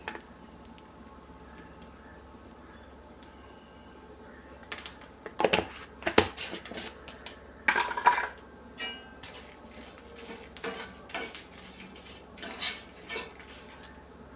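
Coconut, whole dried chillies and coriander seeds are stirred as they roast in a pan, with scattered spoon scrapes and light metallic clinks in irregular bursts, close and fairly quiet with no talk.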